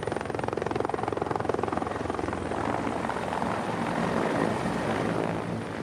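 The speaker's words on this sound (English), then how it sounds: "Then in come the helicopters," Military helicopters fly in during a training exercise, with a steady, loud rotor chop and engine roar that fills the whole stretch without pause.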